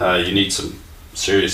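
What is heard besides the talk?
None of the usual background noises is heard.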